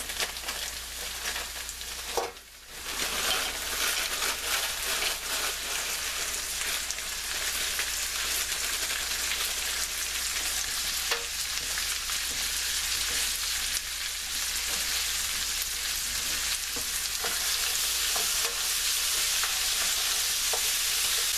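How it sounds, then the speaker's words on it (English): Carrots and onions fry and caramelize in a pan for a vegetarian shepherd's pie, giving a steady, dense sizzle with occasional stirring scrapes and one brief dip near the start; no voices. "I'm going to go ahead and add my carrots now and let them get caramelized with the onions."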